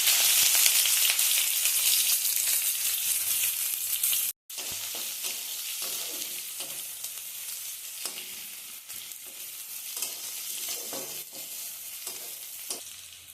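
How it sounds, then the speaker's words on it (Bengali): Chopped onions hitting hot oil with whole spices such as cardamom, cloves, peppercorns and cinnamon, a steady close sizzle with occasional stirring scrapes, briefly cut off then resuming. "এখন পেঁয়াজ কুচিগুলো দিয়ে দিচ্ছি"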